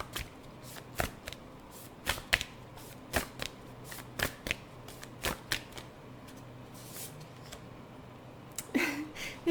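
Tarot cards being shuffled and handled for a reading, with crisp riffling bursts and soft slaps repeating at an irregular rhythm, close and fairly quiet, with no talking.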